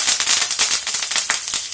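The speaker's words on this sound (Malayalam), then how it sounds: "നമ്മുടെ കടുക് പൊട്ടിക്കഴിഞ്ഞിട്ട് നമുക്ക് കറിവേപ്പില ചേർക്കാം" Rapid, dense crackling and popping of mustard seeds spattering in hot oil, close and fairly loud, with no voices.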